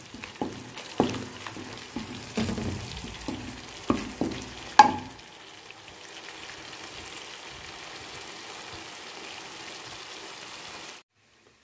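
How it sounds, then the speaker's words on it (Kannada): Chillies and garlic fry in oil for a winter chitranna, with clattering stirs and scrapes over a steady sizzle for about five seconds, then a quieter continuous hiss that stops abruptly near the end; no one speaks. "ಮೆಣಸಿನಕಾಯಿ ಮತ್ತು ಬೆಳ್ಳುಳ್ಳಿ ಎಲ್ಲ, ಅದೆಲ್ಲ ಚೆನ್ನಾಗಿ ಇದರಲ್ಲಿ ಫ್ರೈ ಆಗಬೇಕು."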